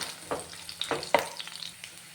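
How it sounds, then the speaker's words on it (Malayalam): Thin slices of ginger and coconut fry in oil in a pan for a beef fry, giving a soft, close sizzle with a few brief stirring scrapes and clinks over a quiet background. "ഇതിപ്പോൾ ഒരുവിധം മൂത്ത് വന്നു ഇനി നമുക്കതിലേക്ക് കുറച്ച് തേങ്ങാക്കൊത്ത് ചേർത്ത് കൊടുക്കാം"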